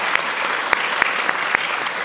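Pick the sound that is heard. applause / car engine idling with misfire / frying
applause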